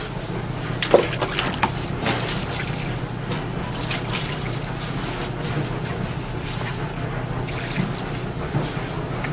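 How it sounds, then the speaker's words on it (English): Water poured into a bottle while making soap from scratch, a faint steady trickle and gurgle with a few light knocks and taps nearby. "We pour our water to about half the bottle."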